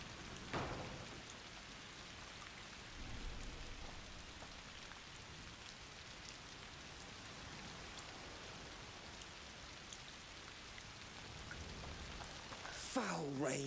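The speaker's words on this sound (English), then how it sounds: "Foul rain." Steady rain falls in the video game A Plague Tale: Requiem, a soft even patter on surfaces, with a brief sharper sound near the end.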